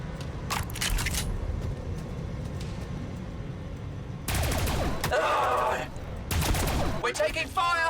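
Bursts of gunfire in Warhammer 40,000: Battlesector ring out amid a steady battlefield rumble, with sharp volleys near the start and heavier clusters of shots later on.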